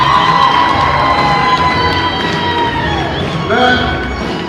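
A basketball crowd on women's senior night cheers for Sydney Davis, a loud sustained roar with whoops and high children's shouts, swelling again near the end while indistinct voices mix in.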